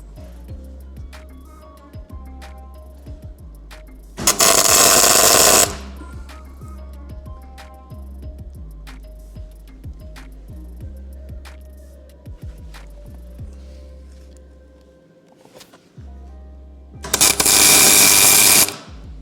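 Doors being welded onto a Holden Torana GTR XU1 during restoration: two loud bursts of harsh, crackling welding noise about a second long each, separated by a long stretch of low workshop hum and small clicks.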